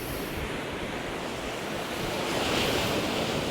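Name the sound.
sea waves breaking on the beach in a storm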